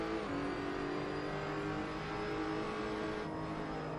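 A 4-litre car engine in the racing simulator Assetto Corsa on the Kyalami track: a steady, sustained engine drone at high revs, dense and continuous with shifting harmonic whine, no talk heard.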